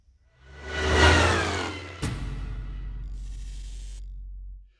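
A Renault Spider's engine revs up and pulls away, swelling to a loud peak before settling into a steady, fading drone, with a sharp clunk midway as it drives off.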